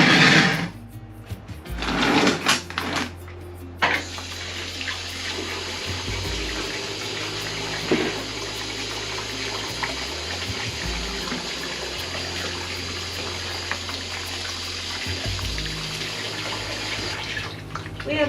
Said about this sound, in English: I need to put some more water in this